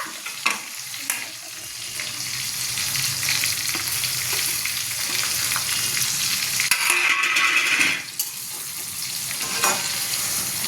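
Green chillies frying for lote fish curry, a loud, steady close sizzle with occasional stirring clatter throughout.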